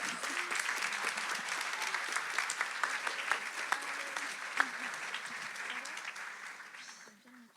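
Applause from a gathered audience welcoming a woman at a special baptism celebration, sustained, even clapping that runs for several seconds before fading out, with a faint voice briefly underneath.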